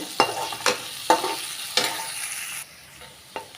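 Curry leaves hit hot oil in a frying pan while cooking a Tamil yam (chenai kilangu) gravy, giving a steady close sizzle broken by about five sharp scraping stirs spaced roughly half a second apart, then a quieter fizz.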